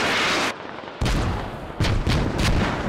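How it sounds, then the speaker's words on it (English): Heavy gunfire and booming blasts in the military shooter game Squad, with loud dense bursts that briefly drop out before resuming in pounding waves. "Russians starting to shoot in."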